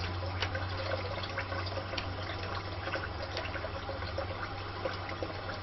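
Cool water running from a tap while preparing to shave, a steady rushing stream with light splashing, continuous and close, no talk.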